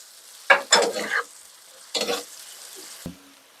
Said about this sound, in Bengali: দিয়ে হালকা একটু লাড়া দিবেন